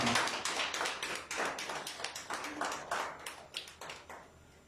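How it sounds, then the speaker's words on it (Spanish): A church congregation claps in a steady, rhythmic beat, loud and close, sustained for several seconds with no voices over it. "Denle un fuerte aplauso al Señor."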